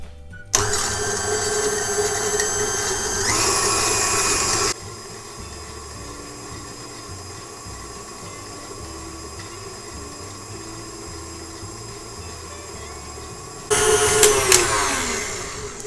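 An electric hand mixer beats butter for cupcakes at medium speed, whirring steadily and loudly with a mechanical motor hum, drops to a quieter steady drone midway, then surges louder again near the end.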